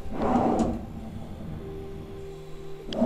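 A slim handleless drawer in a puja cabinet slides open or shut in a furnished home interior, a close soft rumble at the start followed by a light knock near the end, with no talking.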